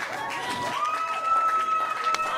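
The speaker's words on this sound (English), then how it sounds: "That crowd getting behind Thunder Rosa" A wrestling crowd cheers for a competitor during a women's match, a dense sustained roar of many voices with whistles and shouts rising and falling, fairly loud and continuous throughout.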